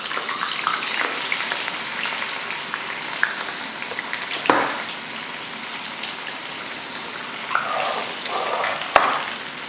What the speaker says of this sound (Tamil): எண்ணெய் நல்லா காஞ்சிருச்சு. இப்போ வந்து நம்ம சில்லி பொரிச்சுக்கலாம்.